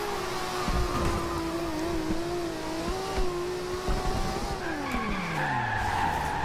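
Twin-turbo Genesis and S13 drifting online in Forza Horizon 2, a continuous screeching tire skid with sliding pitch over a revving engine, loud and close, sweeping down as the slide ends.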